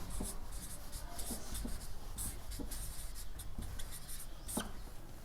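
Continuous close scratching of writing on a board while working a linear programming maths problem, with short tapping strokes scattered throughout, no talk.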